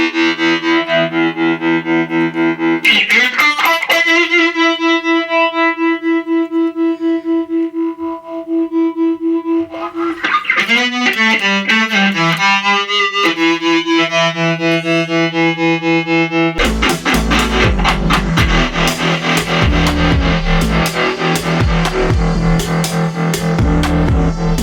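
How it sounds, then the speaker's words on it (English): Electric guitar through a Tone City Summer Orange phaser placed before a Twinote British Dist distortion pedal, sustained notes swirling, sweeping and bending with crunchy distortion, ending in loud, gritty chords. "now we're going to put the phaser in front of the distortion"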